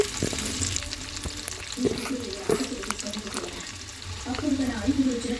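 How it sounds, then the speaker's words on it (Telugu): Onion pieces frying in oil while being stirred, a moderate sizzle with intermittent scraping strokes, and a voice speaking over it at times. "కొంచెం కదిలిపుకుంటూ ఫ్రై అయ్యాక"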